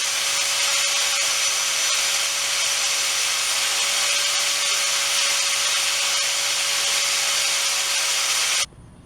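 Hot steel for an axe head is forged into points in a home forge, heard as a continuous loud, bright hiss and roar with a faint steady tone running underneath, cutting off abruptly just before the end.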